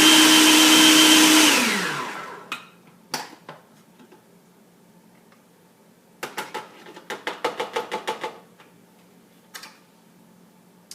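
Food processor blending basil pesto with shredded cheese, a loud continuous whir that cuts off after two seconds, followed by scattered clicks and taps of the lid and blade.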